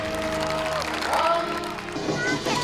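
An audience applauds after a tightrope-walking performance, with clapping and crowd noise mixed under tonal music and voices for a few seconds.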